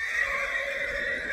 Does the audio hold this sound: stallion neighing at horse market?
yes